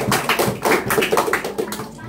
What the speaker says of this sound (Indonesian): Wah, luar biasa, tepuk tangan.